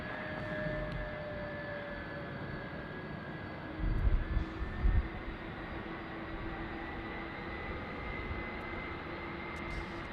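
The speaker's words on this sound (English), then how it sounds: "I love the sound of those CF6s on the 767. That's what you're hearing right now." Boeing 767 with CF6 jet engines taxiing at LAX, a steady broadband jet roar with faint high whine, fairly distant and continuous, with a couple of brief low thumps midway.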